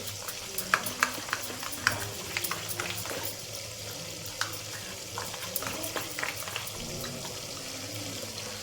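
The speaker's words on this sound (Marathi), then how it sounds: "तर आता मिक्स करून घ्यायचं आपल्याला व्यवस्थित." A biryani masala mixture is stirred in a bowl, with repeated wet scraping and light clinks of the spoon over a low steady hum, close and fairly quiet, no talking.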